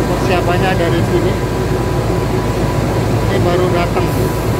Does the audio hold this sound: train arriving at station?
yes